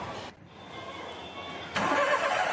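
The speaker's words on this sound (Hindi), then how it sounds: "फिर स्टार्ट होगी गाड़ी" A Volkswagen Vento with starting trouble cranks over briefly, falls quiet, then catches and settles into a steady, fairly loud engine run close by.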